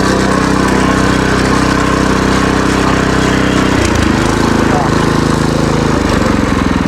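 A Husqvarna TF 230 walk-behind cultivator on 4.00-8 wheels running its engine at full throttle in reverse, a loud, close, steady drone with a pitch shift midway, under occasional speech.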